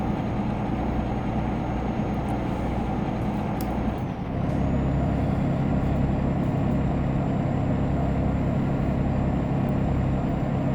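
A DAF XD truck engine in Euro Truck Simulator 2 drones steadily and loudly throughout, with a brief dip partway as it shifts, and no voices.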